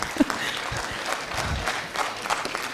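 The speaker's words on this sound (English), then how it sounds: "Can we give His Excellency a round of applause?" Crowd applause for His Excellency at the Pan African Youth Convention in Nairobi, a fairly soft, even patter of clapping from a large audience with a few sharper claps near the start.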